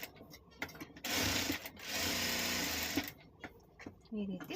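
A sewing machine runs in two bursts, stitching a cloth pouch sewn from old fabric scraps. Steady mechanical whirring sits close by and a brief voice speaks between the runs.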